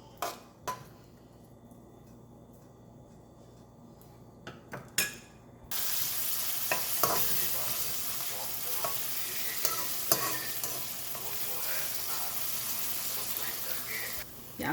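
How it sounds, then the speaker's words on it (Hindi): Onions for a prawn curry sauté in a pan, preceded by a few clinks and stirring clatters, then a steady loud sizzle with occasional scraping stirs, close by and without talk. "प्याज सोटे करूँगी मैं। इसे हमने ब्राउन नहीं करना है, सिर्फ सोटे करना है, नरम करना है,"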